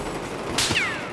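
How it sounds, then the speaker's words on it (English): Gunfire in Battlefield 4 on the Operation Locker conquest map: one sharp broadband shot is followed by a short burst and a whizzing streak, all set against a steady game-ambience bed. "who's shooting at me?"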